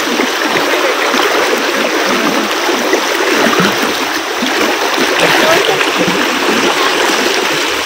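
A swollen river after rain rushes and splashes loudly and continuously at close range, a dense broadband roar of flowing water.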